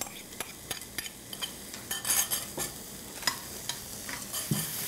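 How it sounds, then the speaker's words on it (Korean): Chopped onions frying in butter in a pan while being stirred for a Salisbury steak mixture: scattered clinks and scrapes of a utensil over a soft, steady sizzle, close and fairly quiet, with no talking. "버터를 좀 두르시고 다져놓은 양파를 넣어서"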